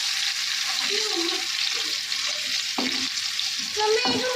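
Mirchi vada and bread pakora being re-fried in hot oil, a steady broadband sizzle with occasional stirring clatter, close and fairly loud, with no talking.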